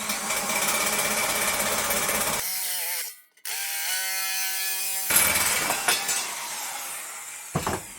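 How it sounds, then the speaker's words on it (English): Small nibbler driven by a drill cutting into a Skoda Fabia Mk1 numberplate light surround, a loud buzzing, chattering grind that drops out briefly, comes back with whining motor tones and then returns as rough cutting bursts. "Get my drill out and my little nibbler."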